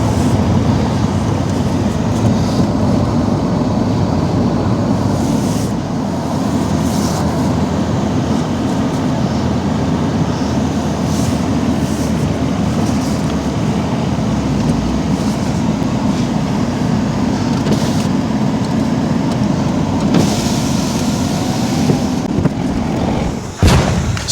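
Turbocharged engine of a Mini Cooper S Roadster R59, a rebuilt salvage car, idling at a steady, subdued drone with a dense low rumble and hiss throughout, no voices.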